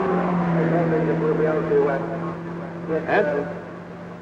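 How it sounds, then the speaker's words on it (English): A Vauxhall race car at the 1963 Armstrong 500 endurance race gives a steady, droning engine note, heard under a commentator talking over it. "We'll have a listen to the Vauxhall."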